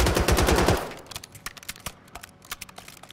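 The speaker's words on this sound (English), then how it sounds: "Bruh, I just realized this submachine gun has like no recoil, bro." Rapid submachine gun fire in Call of Duty, a dense, loud sustained burst of automatic shots, then scattered single shots and short bursts at varying distances.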